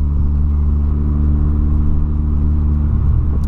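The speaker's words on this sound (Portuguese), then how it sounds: "Que o meu carro começou já a falhar pra caramba" A car engine running rough after refueling, a close, constant low rumble with a slightly uneven throb, heard from inside the vehicle, with no talking.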